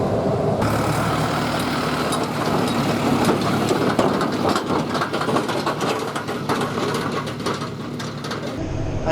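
A tractor hauls a hay wagon across a Texas hay field, its engine a loud, steady, close drone that runs unbroken for the whole stretch with rattling overtones and no talk.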